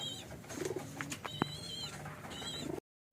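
At a loft after a sprint race, a racing pigeon and other birds give soft coos and thin chirps, with a single sharp knock midway, all fairly quiet and close.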